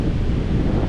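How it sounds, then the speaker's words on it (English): Strong wind from Hurricane Idalia buffets the microphone on Flagler Beach on Florida's east coast, a loud continuous rumble with surf noise and no pauses. "it's super windy over here"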